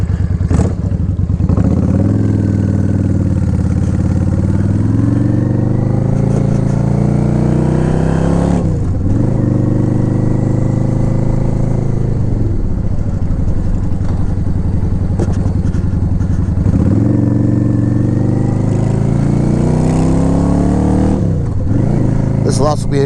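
A motorcycle rides on an open road, its loud engine droning and rising through repeated revs and gear changes, with wind rush around it and a voice talking over the engine noise.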